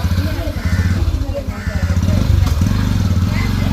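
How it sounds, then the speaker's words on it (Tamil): A motorcycle engine running steadily at close range, a throbbing low putter that continues under outdoor background noise without a clear start or rev. "நாங்கள் வந்து இப்போ பைக் எடுத்துக்கொண்டு போகிறத பார்ப்போம்"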